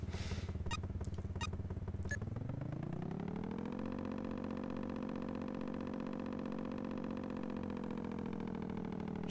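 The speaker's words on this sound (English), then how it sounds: "So yeah, some basic engine noises." Synthesized motorbike engine from the Amiga racing game Outrun Europa, a buzzy electronic drone that rises in pitch as it revs up and then holds a steady whine, with a few sharp clicks at the start.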